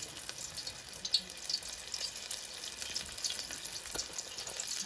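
Shrimp frying in hot oil in a pot for a surf-and-turf dinner, giving a steady, close crackling sizzle with scattered pops throughout and no talking.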